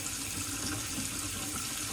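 Tap water runs steadily into a sink while a G-Shock GW-800 watch is cleaned, a close, continuous bright hiss and splash with no pauses and no voices.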